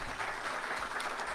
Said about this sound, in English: let's get a round of applause for all of our candidates tonight